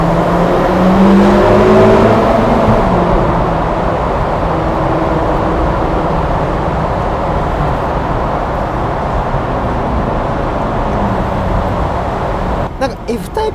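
Inside a Ferrari California T cruising on a highway, a loud, steady turbocharged V8 engine drone with deep low-mid tones holds throughout, rising slightly early on, while occupants talk over it.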